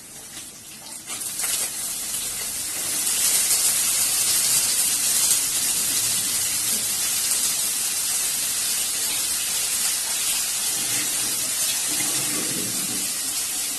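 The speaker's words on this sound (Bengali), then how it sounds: "এবার আমি আলুটা দিয়ে দেবো।" Potatoes dropped into hot oil with coconut, a steady loud hiss of frying that swells after the first seconds and holds on to the end, with no talking.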